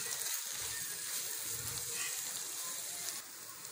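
Chicken chukka with ground masala fries in a pan, a continuous soft sizzle with a few light stirring scrapes, fairly faint and steady, with no voices.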